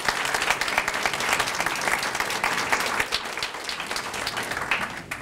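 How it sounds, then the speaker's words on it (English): An audience claps for the participants of a university Three Minute Thesis competition, a full, sustained round of applause from a crowd that stays loud and even before tapering slightly at the close. "give all of our participants another round of applause"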